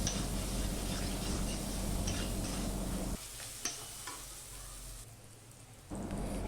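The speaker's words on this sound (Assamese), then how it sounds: "এইখিনি দি এতিয়া মই ভাল কৰি মছলাখিনি ভাজি ল'ম।" Spice masala of ginger, garlic and chili paste with turmeric, salt and Kashmiri chili powder fries in a pan. A soft, steady sizzle mixes with stirring scrapes and briefly dips quieter midway before returning.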